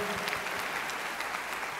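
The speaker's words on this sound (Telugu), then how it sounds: "గట్టిగా చప్పట్లు కొట్టి దేవుని మహిమపరచండి" A church congregation claps loudly together during a sermon, a dense, steady burst of applause that fills the short moment with no voices over it.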